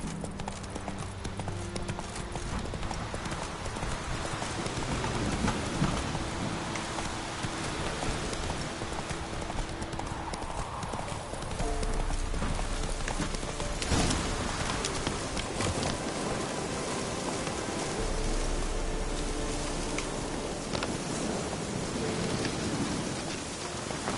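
A horse gallops in The Witcher 3: Wild Hunt, its hooves pounding in a steady, continuous rhythm under loud, hissing rain and a low rumble of thunder.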